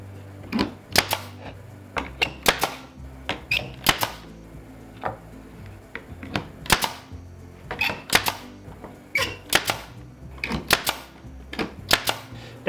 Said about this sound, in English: And then I'm going to staple this on with 18 gauge brad nails that are 1 inch